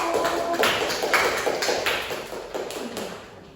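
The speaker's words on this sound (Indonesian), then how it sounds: "Beri aplaus untuk kelompok 1." Applause in a classroom, a steady patter of many hands clapping in a room, fairly loud and continuous and fading slightly toward the end.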